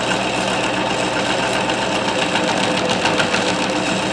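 A homemade pulse motor runs at speed, giving a loud, steady, buzzing whir with a fast mechanical flutter that holds constant throughout and has no talk over it.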